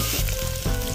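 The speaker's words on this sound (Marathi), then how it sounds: "आता यामध्ये आपण अद्रक लसूण पेस्ट टाकून देऊया आणि मिक्स करत राहूया." Ginger garlic paste sizzles loudly in hot oil with browned onion while being stirred, a steady close frying hiss with soft scraping strokes of the spoon.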